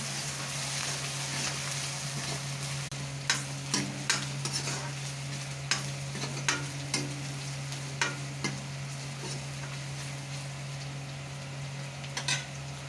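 A frying pan stirred after a spoonful of sugar from a bowl goes in with fried ingredients: steady soft sizzle with a low constant hum beneath, broken by a dozen sharp scrapes and clinks of the spoon against the pan.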